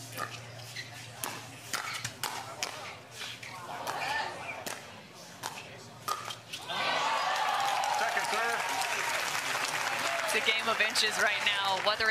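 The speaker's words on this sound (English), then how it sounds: "And crowd cheering them on." A crowd at a pickleball women's doubles gold medal match in Newport breaks into loud, sustained applause and cheering after a rally, following scattered paddle pops and commentator talk.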